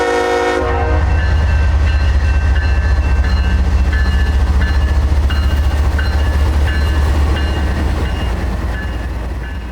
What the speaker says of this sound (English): I'm including the grainer here simply because it had one of CSX's heritage locomotives on the point of the train